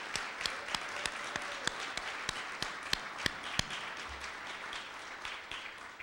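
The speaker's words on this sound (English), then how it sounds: "So can we please have a warm round of applause for our president, Kevin Costello." Audience at an awards dinner applauds the association president, a fairly quiet, steady patter of clapping with a few sharper claps standing out, heard from some distance.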